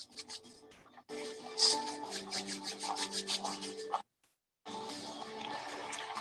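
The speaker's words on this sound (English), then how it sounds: "You need to rub thoroughly until the Germex is dried off." Hands rubbing together in Germex hand sanitizer until dry, giving a close, steady dry rasping friction that runs for a few seconds, stops briefly, then resumes.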